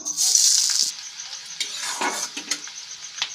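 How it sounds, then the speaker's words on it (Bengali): Chopped ginger, garlic and green chili hitting hot white oil in a pan, a loud bright sizzle that fades into softer frying with scattered stirring clinks and scrapes. "এখন ওই সাদা তেলের মধ্যেই দিয়ে দিলাম আদা রসুন কাঁচা লঙ্কার কুচিগুলো"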